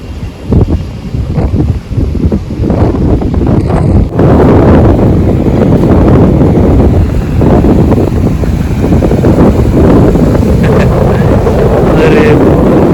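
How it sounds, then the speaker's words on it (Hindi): Wind and waves on the main beach at Alibag: constant roaring wind buffeting the microphone over broad surf wash, loud and continuous, with people talking now and then. "ये है अलीबाग का मेन बीच।"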